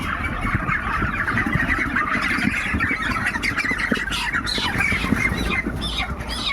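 Twenty-seven-day-old chickens on a poultry farm squawk and cluck continuously, a busy, close flock with overlapping calls and no talking.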